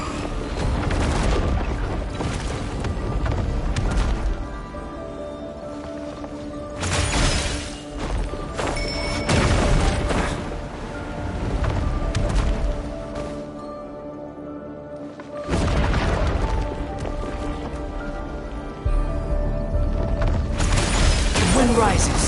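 A breakable wall smashed apart in the Genshin Impact video game, heard as several loud booming crashes spaced through the scene over steady game music.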